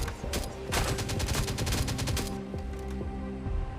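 Rapid gunfire bursts from the survival game Last Day on Earth, a loud, dense string of overlapping shots that rattles on throughout with sharp repeated cracks.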